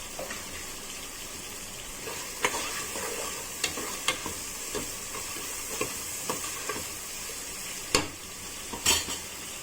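Onions fry in a pan with a pinch of salt for a prawn, tender tamarind leaf and tomato curry, a steady close sizzle broken by sharp scrapes and clinks of a stirring spoon against the pan, with no talking.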